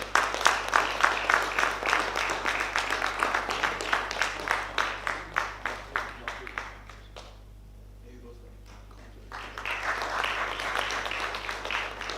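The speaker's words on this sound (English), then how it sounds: "Let's give them a big round of applause, people." An audience at a seminar on building facades claps in a rhythmic beat. A short lull follows, then a softer, denser round of applause.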